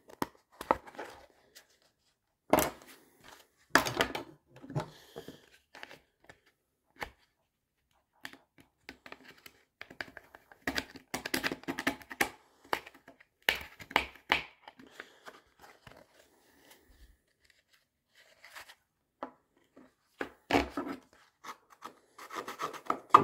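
A hacksaw cutting through metal in intermittent bursts of rasping strokes, close and fairly quiet, with pauses between the sets of strokes.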